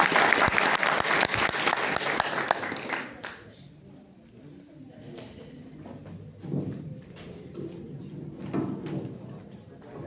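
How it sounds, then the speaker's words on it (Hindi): An audience claps loudly in sustained applause at a village gathering, fading after about three seconds into a quieter room with scattered claps, shuffling and faint voices. "एक बार पुनः से जोरदार ताली बजाए इनके लिए और इनकी टीम के लिए"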